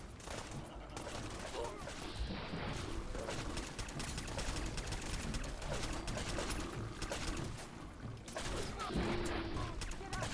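Covering gunfire in Fallout 4's Far Harbor, loud overlapping rifle and automatic bursts that rattle on without pause, mixed with clanks, impacts and faint voices under the din.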